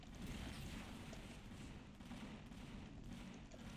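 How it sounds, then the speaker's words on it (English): Sustained heavy gunfire from ship turrets in the space game Empyrion, fighting Legacy Infectors and Decimators, a dense continuous roar of overlapping shots and booms with no gaps, loud throughout. "I'm going to keep shooting right into that hole in there to try to take out the core"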